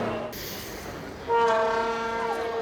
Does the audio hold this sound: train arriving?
yes